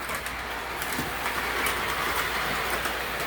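MTH RS1 model train locomotive running on track, a close, continuous rolling rumble with light clicking from wheels and rails, steady throughout, with no voices.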